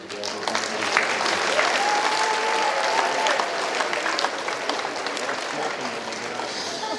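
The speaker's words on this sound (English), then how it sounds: "how about a round of applause for your parents" Dense, sustained audience applause at a DARE graduation ceremony, a crowd clapping steadily and fairly loudly for several seconds without a break.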